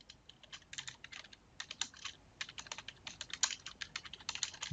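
Quiet, close typing on a computer keyboard in the WordPress editor, an uneven patter of light keystrokes coming in quick bursts with brief pauses and no voice.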